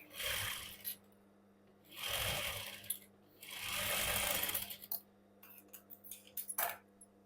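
Sewing machine stitching a blouse in three steady runs of rapid mechanical whirring, separated by pauses, then a series of short clicks and taps, heard alone without talk.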